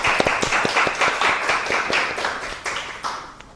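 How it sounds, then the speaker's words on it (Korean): A small audience claps to welcome a speaker at a restorative justice academy lecture, a brief, moderately close round of applause with distinct individual claps that thins out toward the end. "우리 박수로 김진주 작가님 초대하겠습니다"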